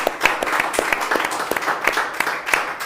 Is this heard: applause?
yes